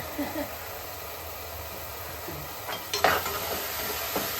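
Tomatoes sautéing in oil for a Tamil parai fish curry give off a steady, light sizzle, with a few louder stirring clatters toward the end.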